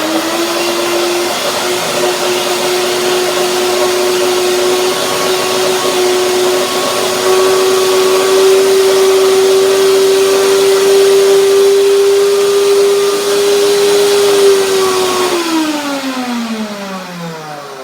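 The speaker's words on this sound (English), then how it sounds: "High-pitched sound, that means the blender works at its limits because it is a small amount of cream only." A small blender blending a small amount of cashew cream whirs loudly at a steady high pitch for a long stretch, straining at its limits, then winds down as the motor slows at the end.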